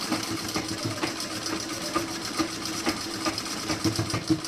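A sewing machine runs steadily while stitching a blouse, its needle ticking in a fast even rhythm with a low motor hum, close and fairly quiet, with no voices.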